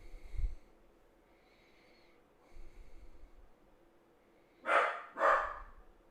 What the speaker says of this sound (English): Dog's barking for some reason.